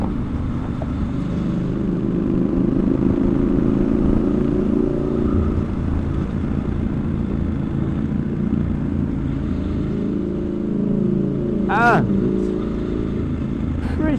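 A Triumph Scrambler 1200XE motorcycle rolls on the throttle through a bend, its engine drone steady and close with a rising swell near the end, under a rider talking throughout.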